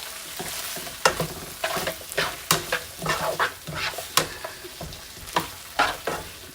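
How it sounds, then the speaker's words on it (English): Butter melting in a hot pan for herb-crusted pork chops in garlic butter sauce, with a soft sizzle under repeated scraping and stirring clatter in an uneven rhythm, close up, with no talking. "I'm going to add this butter in here"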